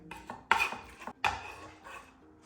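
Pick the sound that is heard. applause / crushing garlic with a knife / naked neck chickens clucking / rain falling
crushing garlic with a knife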